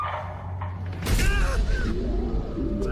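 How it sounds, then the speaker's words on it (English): A mechanical creak and clunk as a door swings open, with a low rumbling hum throughout and brief squeaky scraping. "I'll just open the door."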